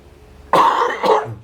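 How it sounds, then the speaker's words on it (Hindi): A man coughs twice in quick succession, close and loud, the second cough slightly shorter, with a quiet room hush before and after. "क्षमा करें, थोड़ी खांसी है।"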